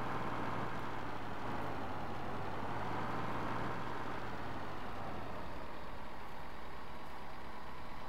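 A Fendt Favorit 622 tractor engine in Farming Simulator 15, in gear pulling two full trailers, drones steadily with a low rumble and a slight rising and falling pitch, continuous and close, with no voices.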